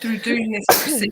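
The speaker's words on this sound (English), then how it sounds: "how does she know I've sneezed?" A woman sneezes once, a sharp loud burst cutting into her own speech partway through a remote conversation, with talking before and after.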